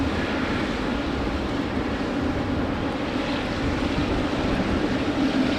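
An airliner waits on the runway before takeoff, its engines giving a steady broadband roar that holds at an even level, moderately loud with no voices.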